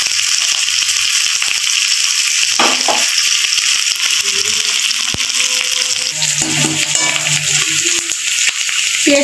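Pakora frying in hot oil, a steady broadband sizzle running throughout, loud and close, with a few faint clinks and stirring sounds partway through.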